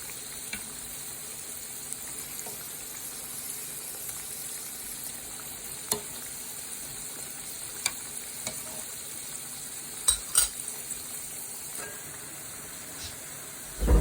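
Homemade dumplings fry in a pan with a soft, constant sizzle and scattered sharp pops and crackles, the loudest near the end. No one speaks.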